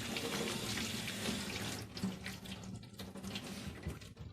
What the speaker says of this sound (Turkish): Şöyle havucumuzu da yıkayalım